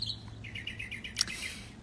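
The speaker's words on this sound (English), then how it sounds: "he's not big, but his voice is very big, mockingbird" Mockingbird singing from near a backyard deck in the morning: a rapid run of bright, repeated chirps and whistled phrases, fairly close and clear over faint background noise.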